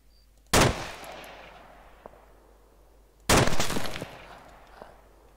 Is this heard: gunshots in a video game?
yes